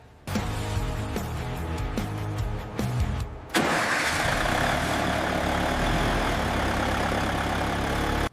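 A heavy truck engine cranks briefly, then catches and settles into a loud, steady close-up idle that holds before cutting off abruptly.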